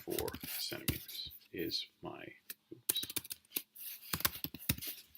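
Light, quick clicks of fingers typing on a computer keyboard, heard in short bursts between a close, softly spoken voice explaining a circle circumference calculation.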